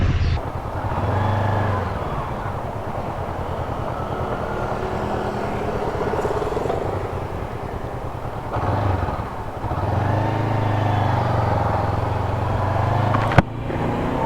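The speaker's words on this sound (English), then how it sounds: "So I am riding the Honda 500X, CB500X" Honda CB500X motorcycle cruising under way, its steady engine drone and wind rush continuous and loud throughout, with a brief dip in the middle and a sharp knock near the end.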